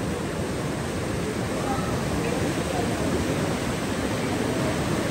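Fast-flowing Alaknanda river at Badrinath rushing in a steady, loud broadband roar of water that fills the whole stretch without a break.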